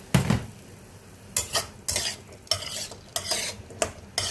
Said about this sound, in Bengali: এটাকে একটু ভাজা ভাজা করবো